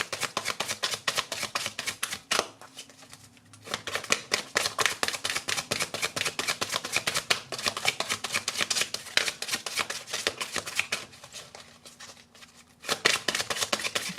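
Romance Angel oracle cards being shuffled close by, a dense, continuous riffling flutter that pauses briefly twice and then resumes, with no talking.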